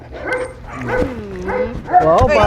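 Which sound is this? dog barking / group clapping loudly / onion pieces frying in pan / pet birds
dog barking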